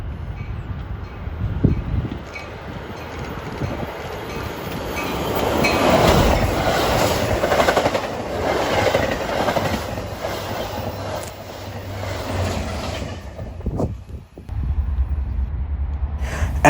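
Train MDW 2704 with Metra locomotive 414 pushing rolls past near Mannheim station in northern Chicagoland, a loud sustained rumble of railcars with clattering wheels and some squeal, close to the track.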